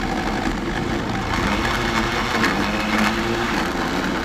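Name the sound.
blender running, making pineapple juice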